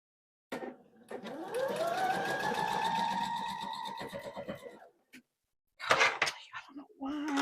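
A sewing machine stitches quilt block pieces in a steady, close, whirring run of several seconds, followed after a pause by a shorter burst of sewing.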